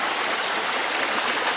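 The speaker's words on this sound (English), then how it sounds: "Another view of the stream." A forest stream in Pisgah National Forest flows beneath a footbridge, a steady, bright rushing and hissing of water, fairly close and continuous, with no one talking.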